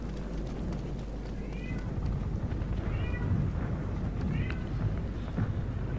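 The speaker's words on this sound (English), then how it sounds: "Oh, sorry about the cat." A house cat meows three times, short rising calls spread over a few seconds, heard over background game sounds and shuffling noise.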